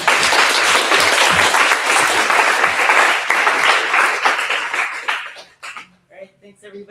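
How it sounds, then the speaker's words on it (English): Audience at an evening workshop session gives a round of applause, dense loud clapping sustained for about five seconds before tapering off into scattered claps and quiet room sound. "let's give Greg and all our speakers one more round of applause"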